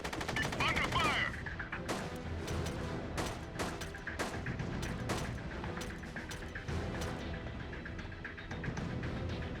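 Heavy gunfire from SOCOM: Combined Assault, sustained bursts of automatic rifle fire and sharp individual shots crackling throughout, loud and dense with a rumbling battle backdrop.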